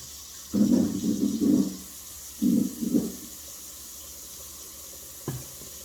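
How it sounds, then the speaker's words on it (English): Hands are washed under a running kitchen tap, with a few short bursts of splashing water separated by pauses over a steady background hum, ending in a faint clunk. "give her a minute to wash her hands"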